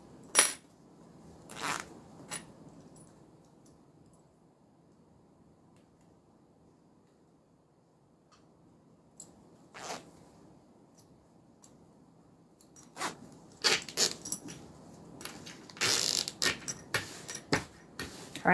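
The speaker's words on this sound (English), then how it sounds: "Let me add my zipper pull" A small metal zipper pull being fitted onto the zipper of a handmade crossbody bag: sparse, quiet clicks and light clinks close by, with long near-silent gaps and a busier cluster of handling noises near the end. No talking.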